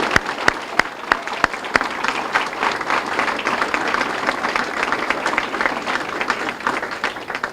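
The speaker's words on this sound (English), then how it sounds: "Just a round of applause for all of the kids." Full, steady applause from an audience at a Boys and Girls Club Youth of the Year evening program, a few sharp individual claps popping out near the start, continuing throughout.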